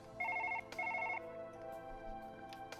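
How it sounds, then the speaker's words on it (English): An electronic telephone in the surgery game Surgeon Simulator rings in repeating warbling bursts, steady and moderately loud, with the pattern sounding twice before softer tones continue. "We have this fucking annoying phone."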